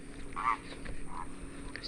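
Birds call faintly in a Brazilian wetland near small bridges: a brief honking call, then a couple of softer calls over quiet ambient background.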